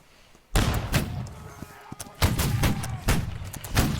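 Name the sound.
gunfire in a military video game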